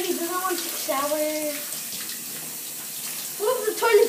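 Tap water runs steadily into a bathtub while a dog is bathed indoors. People talk over the constant hiss of the flow.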